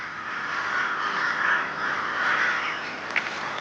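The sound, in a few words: crows cawing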